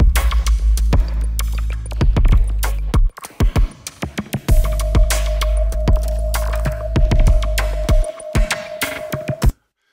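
A full music arrangement plays steadily with a driving beat, bass and a sustained melodic tone, briefly dropping out midway before continuing, then stopping abruptly.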